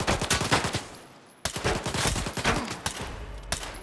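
Bursts of rapid video game gunfire, loud and close, rattling in fast repeated volleys with a brief lull in the middle before the shooting resumes just as hard.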